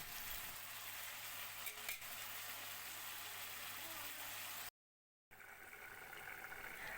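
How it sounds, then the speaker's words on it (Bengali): Steady, dense sizzling of potatoes and pointed gourd frying in oil fills the clip, with a brief total dropout near the end before the sizzle resumes. "এখানে আমি রান্না করছি পটল আলু ভাজা"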